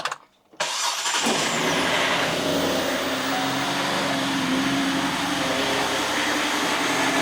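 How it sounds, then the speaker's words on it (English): A Chevrolet Impala engine with a vacuum leak starts after a short silence, then runs with a broad, airy hiss layered over an uneven, loping idle. "Start the engine. I want you to listen to the vacuum leak."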